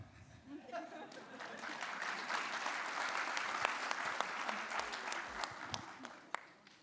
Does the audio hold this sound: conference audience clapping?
yes